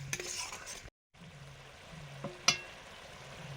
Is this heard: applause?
no